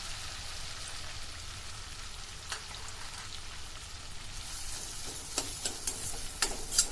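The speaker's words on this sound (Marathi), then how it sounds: "कांदा चांगला मऊ होईपर्यंत शिजवा" Chopped onion fries in a pan with whole spices for butter paneer masala, a soft steady sizzle with occasional stirring scrapes and taps toward the end.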